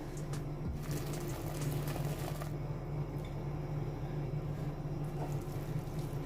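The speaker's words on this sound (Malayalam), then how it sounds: "ഈ സമയത്ത് ഇതിലേക്ക് മുക്കാൽ കപ്പ് നല്ല തിളച്ച വെള്ളം ഒഴിച്ചു കൊടുക്കുന്നുണ്ട്" Three-quarter cup of boiling water pours into a cooked tomato masala for Kerala egg roast, a steady close rushing and bubbling stream lasting throughout at a soft, even level.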